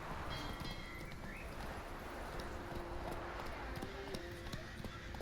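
Hoofbeats of the horse Roach in The Witcher 3, a soft steady clip-clop over ground under faint rustling ambience, fairly quiet throughout.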